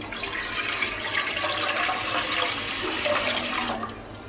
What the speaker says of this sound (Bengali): গামলায় জল দিয়ে দিচ্ছি